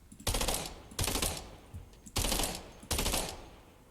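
Fortnite guns fire in four separate loud bursts, each a sharp crack with a rattling tail, spaced about a second apart with brief pauses between them.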